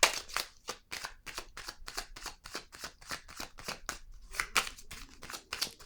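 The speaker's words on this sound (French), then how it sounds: "Je vais déposer une carte ici" Tarot cards handled on a table give a run of quick, papery slaps and flicks, close and fairly soft, in a brisk uneven rhythm.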